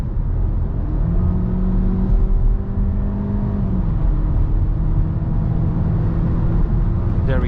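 A 2022 Skoda Kodiaq Sportline with a 1.5 TSI 150 HP engine and DSG gearbox accelerating on a highway in sport mode: a steady, close cabin drone with engine tones that rise, dip at a shift, then settle.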